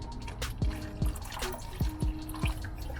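Water added to a bubbling pot of quinoa jambalaya on a van stove gives a series of close, distinct plopping drips at an irregular pace over a soft, continuous background.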